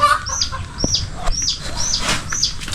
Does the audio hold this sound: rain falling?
no